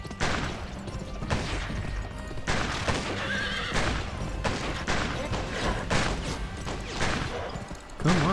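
A horse whinnies loudly and hooves clip-clop in a Western-themed shooting video game, with occasional gunfire bursts mixed into the steady, busy game soundscape.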